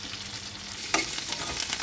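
Mushroom gravy masala ingredients, including coriander, are sautéed in a pan, giving a continuous close sizzle with a brief spoon scrape partway through.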